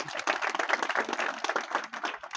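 An audience at a renaming ceremony for a government industrial training institute claps loudly, a dense run of close hand claps that holds steady for a couple of seconds, with no talk over it.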